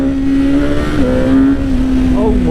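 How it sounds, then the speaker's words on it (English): A 2021 BMW S1000R motorcycle engine drones loud and close with a steady tone that dips briefly, then pulls on as it accelerates after a downshift, wind noise beneath. "flick down some gears and let's give it a squirt,"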